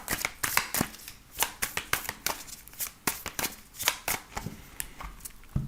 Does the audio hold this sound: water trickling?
no